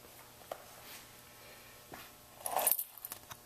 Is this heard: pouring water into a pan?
no